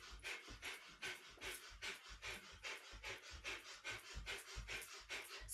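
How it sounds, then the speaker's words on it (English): Rapid, rhythmic breath of fire while running on the spot in a kundalini yoga kriya, sharp forceful exhales pulsing about twice a second, close and steady, with no talking. "start to run on the spot with a breath of fire"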